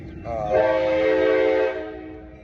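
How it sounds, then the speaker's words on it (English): A nearby train sounds a loud, sustained horn blast lasting over a second against steady rumbling, then fades, heard outdoors after a run. "Train wants to interrupt, so I'm just gonna cut it there"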